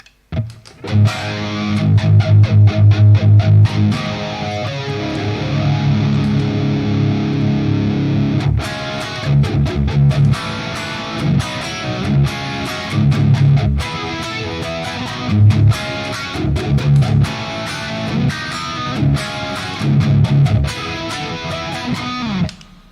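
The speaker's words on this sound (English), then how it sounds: "Pretty legit sounding flange, that, right?" Distorted electric guitar chords and riffs through an MXR 117 flanger setting on an Axe unit, a sweeping, whooshing swirl, loud and continuous with choppy muted strums, no voices.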